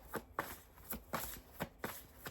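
Tarot cards shuffled and dealt in a steady rhythm, about six crisp papery riffles and slaps spaced roughly every half second, close and fairly quiet with no talking.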